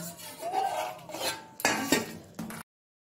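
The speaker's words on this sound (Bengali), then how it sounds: "এইভাবে অল্প অল্প জল দিয়ে মাখলে ব্যাটারটা ভালো হবে" Beguni batter being mixed with water in a bowl, with scraping, stirring and clinking of a utensil against the bowl in a few bursts, close and fairly clear, then stopping abruptly.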